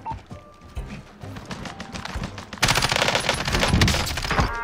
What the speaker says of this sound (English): Yeah, he's shooting at me.